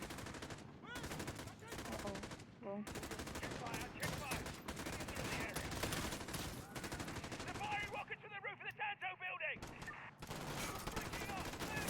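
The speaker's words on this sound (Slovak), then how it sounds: "Kto tu strieľa?" Rapid gunfire from Call of Duty Modern Warfare, with dense bursts of automatic shots and single cracks running throughout under a player's talk and game effects.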